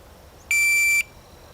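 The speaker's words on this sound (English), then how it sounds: "Let me give it a test beep." A shot timer sounds a single steady high-pitched electronic test beep lasting about half a second, clear and alone against faint background hiss.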